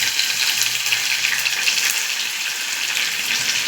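Chopped onion frying in three spoons of oil in a pressure cooker with mustard seeds and curry leaves, a steady close hiss and crackle of sizzling that runs without a break.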